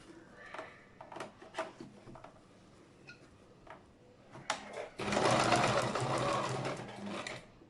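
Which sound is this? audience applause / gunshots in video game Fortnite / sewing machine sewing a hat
sewing machine sewing a hat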